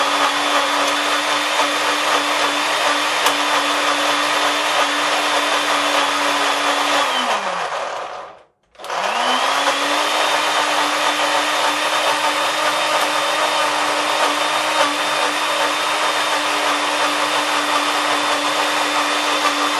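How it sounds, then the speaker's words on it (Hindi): A mixer grinder whirs loudly and steadily while grinding a spice mixture for BBQ chutney, cutting out for a brief moment partway through before spinning back up to full speed. "अब सारी चीज़ों को एक साथ मिक्स करके अब इसको ग्राइंड करेंगे।"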